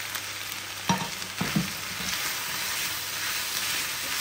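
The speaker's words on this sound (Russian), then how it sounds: "Я теперь сюда высыпаю овощи с мясом. Все нужно перемешать." Vegetables and meat are stirred together in a pan for a quiche filling, a steady close sizzle with a few louder scraping knocks of the utensil early on.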